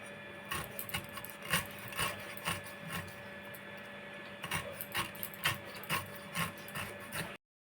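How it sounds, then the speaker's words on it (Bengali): A knife cutting through a pineapple for chutney, trimming away the eyes, gives a series of close, rasping scrapes and short cutting strokes in an irregular rhythm, with no talking over them. "আমি যেভাবে কাটছি দেখুন এর সঙ্গে চোখগুলো বেরিয়েই যাচ্ছে"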